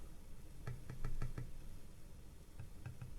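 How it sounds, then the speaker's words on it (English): A handful of light, hollow taps on a carbon fiber bicycle saddle in a quick series, then a few more after a pause, faint over a low background hiss. "you can hear the difference when I tap it, the fake one versus the real one"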